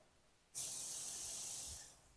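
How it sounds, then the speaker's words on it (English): A sudden burst of steady sizzling hiss from a tomahawk steak hitting a hot grill, close and loud, fading slightly at the end; no talking. "If you get a little close there, you can hear the sizzle."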